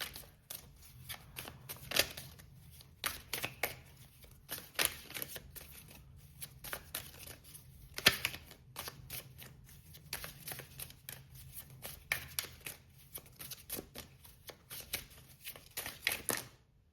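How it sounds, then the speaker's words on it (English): Tarot cards shuffled and handled in a steady run of crisp, riffling flicks and taps, close and fairly quiet, with brief pauses between bursts and no talking. "So for path A, if I could please have two tarot cards."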